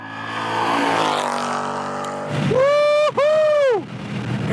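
A Ford Mustang GT on a race track roars loudly and close, its engine note climbing steeply through two hard revving pulls with a brief break between them, over a busy background of wind and road noise.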